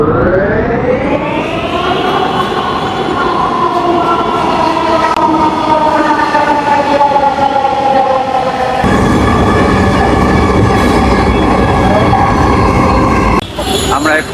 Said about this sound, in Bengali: এখন মেট্রো রেল আসতেছে